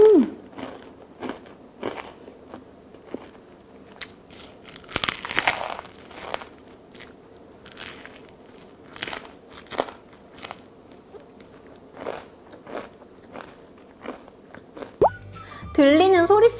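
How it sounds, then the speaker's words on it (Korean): Homemade sweet-and-salty cheese turtle chips, four-layered snacks seasoned with cheese powder, crunched in repeated crisp bites with steady chewing crackles spread evenly throughout, close and clear, with a brief voice near the end. "그럼 이제 직접 만든 단짠 치즈맛 거북칩을 한번 먹어볼게요."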